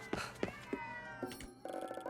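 A cat in a video game meows several times in a row, clear and fairly close, with no talking over it.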